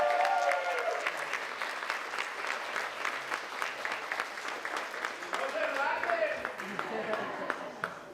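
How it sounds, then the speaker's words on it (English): An audience at a conference plenary session applauds, a dense, sustained wash of clapping that holds steady for several seconds before gradually thinning out. "Dr. Maggie Rivas Rodriguez, give her a round of applause."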